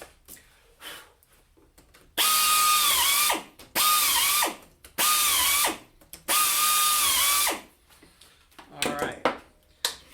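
Drill boring shelf-pin holes through the Rockler JIG IT shelving jig: four loud sustained whirring bursts with brief pauses and a shorter rattling burst at the end, close up, quiet clicks between.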